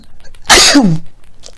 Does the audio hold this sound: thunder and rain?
no